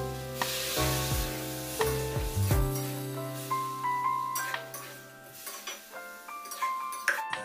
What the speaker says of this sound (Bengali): একসাথে সব কিছু দিয়ে ভেজে নেব